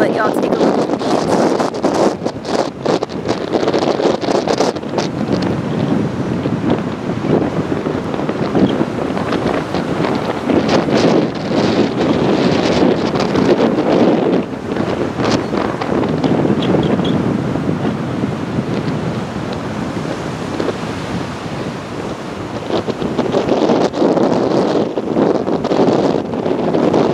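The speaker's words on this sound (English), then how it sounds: "It's very windy today with highs in the 50s." Strong winter wind buffets the microphone in a constant roar on the beach at Avon on Hatteras Island, with surf crashing underneath and a voice speaking over it.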